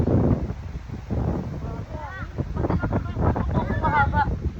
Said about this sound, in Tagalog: Mahangin, sobrang hangin.